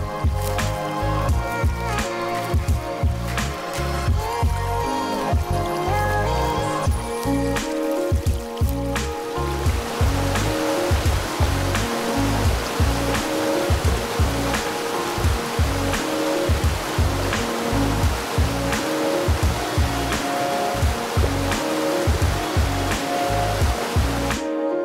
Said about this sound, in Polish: Jak na razie cały czas idziemy wzdłuż strumyka.